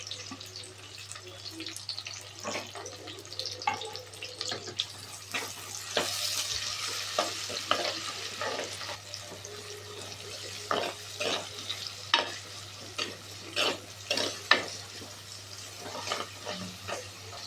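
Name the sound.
chopped onions frying and being stirred in oil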